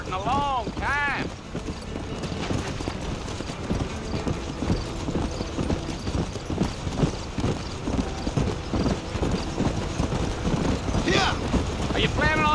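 A horse ridden in Red Dead Redemption gives a steady, close clip-clop of hooves over ground, a brief neigh near the start and another near the end, with other game sounds underneath.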